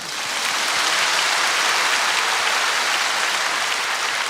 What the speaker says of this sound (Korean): 하나님께 한번 박수하십시다